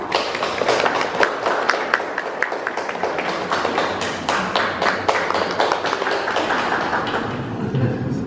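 Steady audience applause fills a gallery opening ceremony for a photography exhibition, dense clapping from a room of guests sustained for about eight seconds with no talking over it.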